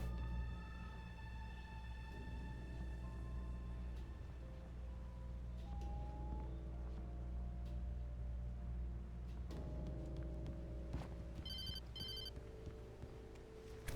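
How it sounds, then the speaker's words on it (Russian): An in-game telephone rings in the PC game Alan Wake, with repeated electronic ring bursts late in the passage over a low, droning ambient score and tonal sound effects; no one speaks. "Кто мне звонит?"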